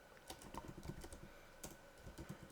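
A computer keyboard is typed on in quick, uneven bursts of soft key clicks, faint and close in a quiet room.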